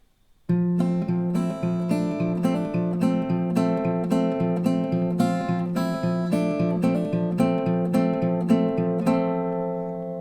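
Acoustic guitar fingerpicking a steady repeating pattern of plucked notes, close and clear, ringing out at the end.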